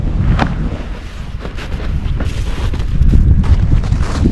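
Wind gusting across an exposed 2100 m summit in the Slovenian Alps, coming from the northwest, a steady loud rumbling buffet against the microphone that swells and strengthens toward the end.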